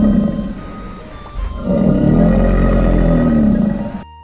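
A crocodile call in a children's forest animal cartoon, a loud deep rumbling roar that swells after a short opening growl and holds for a few seconds before cutting off abruptly, with no talking.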